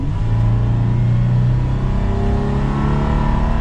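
A 2022 Toyota 4Runner TRD Sport accelerates, its engine a loud, steady drone that climbs in pitch as the throttle opens, heard close and alone without any talking.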